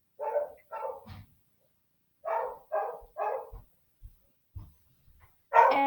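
A pet dog barks in short bursts, two quick barks, a pause, then a run of three more and a final loud one, with faint thumps between, close by and alone.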